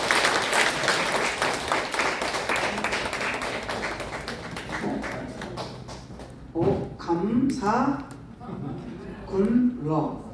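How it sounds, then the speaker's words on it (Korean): Audience applause after a lecture at an introductory training session for a mothers' reporter corps, a dense burst of clapping that fades over several seconds before a voice starts talking. "다시 한번 박수 부탁드리겠습니다"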